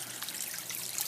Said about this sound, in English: And now you can see the waterfall is starting up,